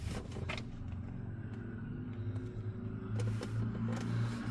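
A 2006 Audi A6 engine runs at idle inside the car, a low steady rumble with a faint tonal hum and brief rises in level, heard close with no talking.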